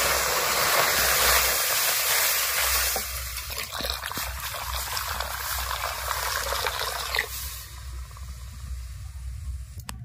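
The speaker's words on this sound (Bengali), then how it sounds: "দু বাটি দুধ সুজির মধ্যে দিয়ে দিয়েছি" Two bowls of milk pour steadily into toasted semolina in a pan, a continuous hissing, bubbling rush that softens and changes after several seconds.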